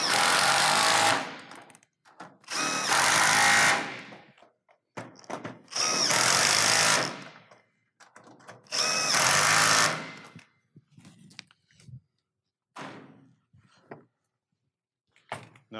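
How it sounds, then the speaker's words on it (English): A power drill drives and tightens a bolt on a roof clamp bracket of an S-5! X-Gard system in loud bursts of whirring, each about a second or two long, with a few short clicks and taps between them. "now I'll come back and tighten my last bolt"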